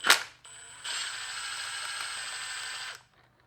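A Milwaukee power tool running on its lightest setting during an RB26 cylinder head teardown, whirring in a steady mechanical drone for about two seconds after a short sharp clack, then stopping.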